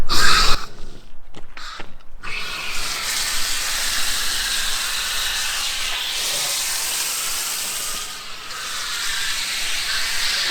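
Car cleaning foam fizzing and crackling on a wet car, a steady broad hiss that holds for about ten seconds after a few brief spray bursts at the start.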